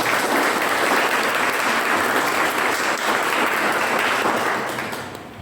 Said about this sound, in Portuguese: Vamos aplaudir a palavra de Deus.